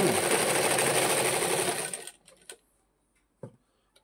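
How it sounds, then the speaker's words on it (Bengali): A sewing machine stitches a jacket body with a fast, even mechanical whir for about two seconds, then stops, leaving a few faint handling taps and rustles. "এই এখন এখান দিয়ে অল্প আমি সেলাই মেরে দেবো"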